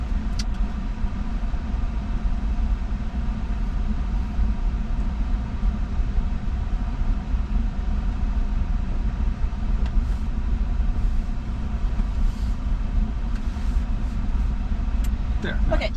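Truck engine running steadily on a dirt ridge road, a continuous low rumble that stays loud and even throughout, with faint voices talking in the background.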